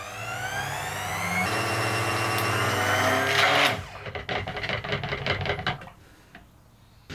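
A stick blender whirs loudly and steadily while blending soap oils with peanut butter, jam and marmalade additives for cold process soap, then stops and gives way to a series of clattering knocks and bumps.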